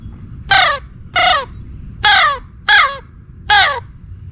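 A crow locator call imitates a crow's growl, five rough, raspy caws evenly spaced about every half second to second, loud and close with no voices.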